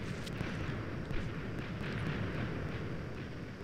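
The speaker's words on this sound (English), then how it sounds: "So it hits one big explosion, but it also throws out all of these different things." A huge TNT blast from a Minecraft TNT mod sounds as a broad, rumbling explosive roar with crackling debris, sustained and moderately loud throughout, with no talk over it.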